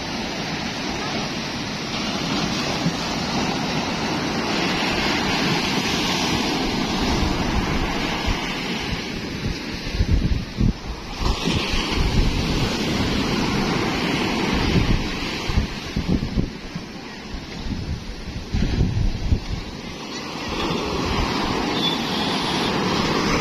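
Big ocean waves crash and roar continuously at a river mouth, loud and close with a heavy, wind-buffeted rumble throughout and brief surges of louder impact.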